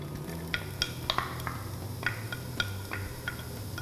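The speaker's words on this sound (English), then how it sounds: "Here goes in the onions and I will let the onions get sautéed well." Finely chopped onions sautéing in well-heated oil in a pan, a soft steady sizzle with a few light clicks of a spoon stirring, quiet and close, no talking.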